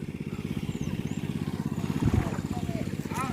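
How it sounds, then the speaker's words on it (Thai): An engine-driven pump draws water from a pond to flood a rice field, its small motor chugging in a fast, steady putter up close, with brief background sounds over it. "ก็มีการสูบน้ำจากสระนะฮะ เพื่อไปลงนานะครับ"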